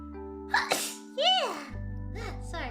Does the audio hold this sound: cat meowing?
no